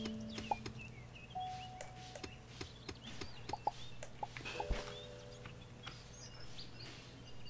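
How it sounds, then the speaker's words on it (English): Birds chirping in the Starbound video game, scattered short calls and chirps at low level over a steady background hum, with faint clicks between them. "you can hear birds"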